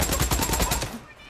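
Rapid gunfire from the Days Gone video game, a loud burst of repeated shots in quick succession that cuts off abruptly, with faint game sounds behind.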